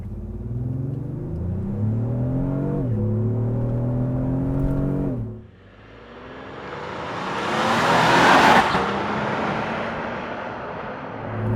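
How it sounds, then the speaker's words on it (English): A 2024 Lexus GX550 SUV launches at full throttle, its engine rising in pitch through a gear change, then a quiet moment before a loud, broad rushing roar swells and fades as speed builds. "I'm just going to floor it."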